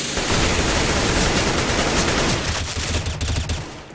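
A loud, dense burst of Counter-Strike gunfire is fired through a smoke screen and a wall at a LAN qualifier match, sustained for several seconds before it tails off slightly.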